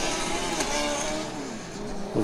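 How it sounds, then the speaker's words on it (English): Formula Student race car accelerating away at a historic autocross event, a loud continuous high-revving engine note that rises and shifts pitch, heard close with no voices. "the car from Bochum takes off again as well"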